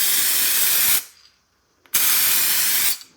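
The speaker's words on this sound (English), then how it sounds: "now I should be able to test my spray output" Two long bursts of clear coat aerosol spray hissing close up, each about a second long, separated by a brief pause.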